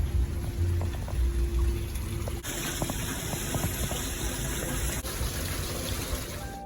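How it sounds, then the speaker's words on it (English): A waterfall: steady rushing water pours and splashes continuously, a broad wash of sound with no voices over it. "Oh, it's like this waterfall here."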